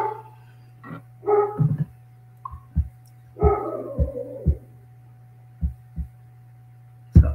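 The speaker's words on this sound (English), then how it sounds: "that's my dogs barking" Dogs bark in short, separate bursts, several yips and barks spread over a few seconds, over a constant low electrical hum.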